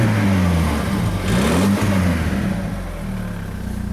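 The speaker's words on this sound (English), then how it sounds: "Get really nice sort of throaty noise from the car, which is very, very nice." Close-up throaty engine note of a 2012 BMW Z4 sDrive28i M Sport roadster, idling then blipped in a brief rev that climbs and falls before settling back to a steady low idle.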